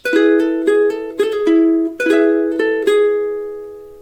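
Ukulele plays the last two bars of a song intro, a run of plucked notes ringing over one another in a steady phrase, close and clear, with the final note left to fade out alone.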